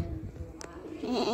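Goats on a farm bleating, one short, fairly close bleat rising near the end over a bed of low rustling and background noise.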